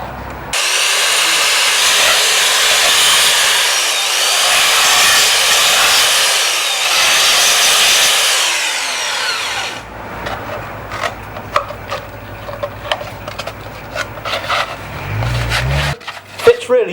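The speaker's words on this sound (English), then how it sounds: "What I'm going to do is trim them all by fettling them with this machine" A trimming machine fettles plastic Stormtrooper armour parts with a loud, steady, harsh whine for about nine seconds, then cuts off, leaving scattered clatter and knocks as parts are handled.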